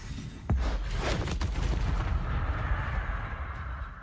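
Confringo blast spell in the Hogwarts Legacy video game, a sharp booming explosion at the start followed by rumbling crackling impacts and a lingering roar, loud and close.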